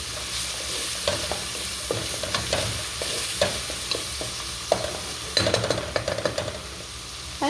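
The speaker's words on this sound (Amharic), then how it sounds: "ይሄ ሽንኩርት እየተጠበሰ ነው።" Onions frying in a pan, a steady sizzle close by, broken by repeated scraping and clacking as they are stirred.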